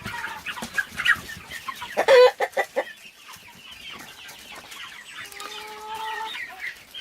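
Chickens, including Brahmas, clucking nearby on a homestead, with one loud harsh rooster crow in the middle and a few drawn-out tonal calls toward the end; no talking.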